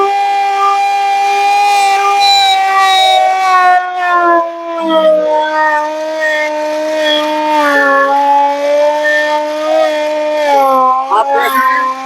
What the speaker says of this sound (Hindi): सायरन ये ऊंची नीची आवाज में 2 मिनट तक बज रहा है।